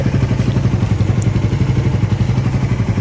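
A Yamaha Raider 150 fuel-injected motorcycle engine runs at a loud, close, steady idle with a fast, even pulsing throb. There is no talking.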